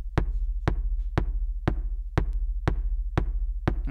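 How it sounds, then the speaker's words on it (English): Sugar Bytes DrumComputer drum machine playing a steady, evenly spaced pattern of eight punchy hits with a deep low-end thump, each tail smeared by a short room reverb, loud and alone. "and then you also have a room, which is kind of a much smaller reverb."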